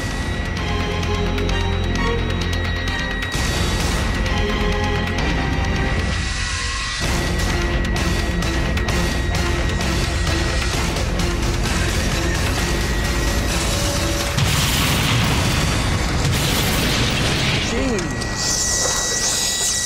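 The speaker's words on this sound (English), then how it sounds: "this is a world's first crash test." A Renault Modus and a Volvo 940 collide head-on in a crash test. A loud, continuous roar of metal crunching, smashing and grinding fills the whole stretch, with dense debris noise and machinery, and talk is heard faintly.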